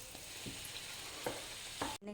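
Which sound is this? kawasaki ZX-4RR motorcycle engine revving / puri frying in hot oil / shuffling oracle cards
puri frying in hot oil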